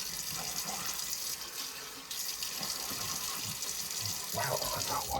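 Hot water runs from a tap at a shaving sink, a steady close hiss of flowing water that fills the whole stretch, with a few faint splashy bursts near the end and no clear talk.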